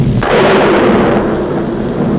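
Thunder crash effect for lightning in a 1940s Superman cartoon, a loud, dense rumbling roar that holds steady for about two seconds with no talking.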